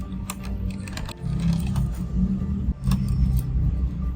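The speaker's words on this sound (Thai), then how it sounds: "ขันสกรูยึดส่วนที่เหลือ" Screws being tightened into an HP laptop during disassembly: a run of small, close clicks and ticks from the screwdriver over a steady low hum, with no talking.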